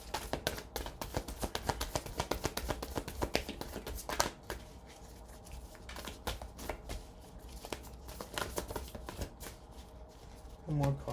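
A deck of tarot cards being shuffled up close, a continuous run of rapid riffling and flicking card sounds with brief pauses, fairly quiet.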